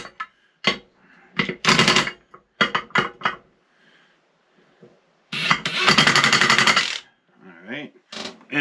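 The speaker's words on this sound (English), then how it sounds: "just use setting 1 on our impact" An impact wrench on its lowest setting works on a Can-Am Maverick Sport Max, giving several short rattling bursts and one longer two-second hammering run, with quiet gaps between.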